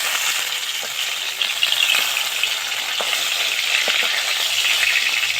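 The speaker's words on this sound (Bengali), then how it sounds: "মাছগুলো একটা একটু ভাজা হয়ে গেছে উল্টে দেবো" Turned-over chang fish keep frying in mustard oil in a kadai, giving a close, even sizzle with scattered sharp pops and crackles that runs on steadily with no voices.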